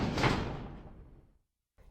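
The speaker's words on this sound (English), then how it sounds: "Especially considering we can't skip these door loading transitions." A heavy door creaks and swings open during a loading transition in Resident Evil 0. The single drawn-out sound fades away over about a second and a half, followed by a brief silence and a faint new sound starting.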